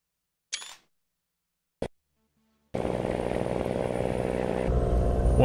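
A camera takes a photo in the rain, two crisp isolated shutter clicks in near silence, followed by a steady loud rumble of a truck engine and rain.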